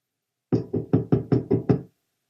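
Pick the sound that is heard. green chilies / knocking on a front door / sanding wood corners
knocking on a front door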